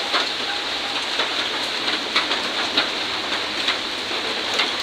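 Steady rain falls outside in a morning downpour, a dense continuous hiss with scattered louder drops tapping on a nearby surface.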